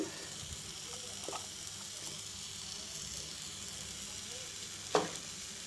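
Wood apple pieces fry in a pan with salt and turmeric, giving a steady soft sizzle throughout with a brief louder crackle near the end; no one speaks.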